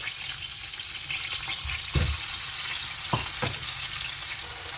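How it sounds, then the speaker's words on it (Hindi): Marinated chicken pieces fry in hot oil in a pan for tandoori chicken, a steady loud sizzle throughout with a few brief clinks and scrapes near the pan. "उसको गर्म करने के बाद हम उसके अंदर चिकन के पीसेस को रख देंगे।"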